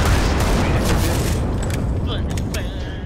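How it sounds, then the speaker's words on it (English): Gunfire in the video game Counter-Strike: Global Offensive, a dense burst of rapid shots and booms, loud and continuous, with people talking over it. "Why are you shooting at me?"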